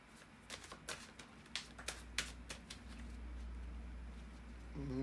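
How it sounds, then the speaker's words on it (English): Tarot cards being shuffled in a run of crisp, rapid flutters and riffles, fairly close, with a steady low hum underneath and no talking. "just bear with me a second, guys, to shuffle the tarot cards."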